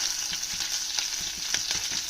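Cumin, mustard seeds and chopped green chilies fry in hot oil, giving a steady close sizzle with small crackles and pops scattered through it and no voices.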